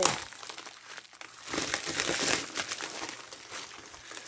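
Tape and plastic packaging from an AliExpress mail parcel are handled and crinkled up close, a busy, fairly loud crackling rustle that swells in the middle.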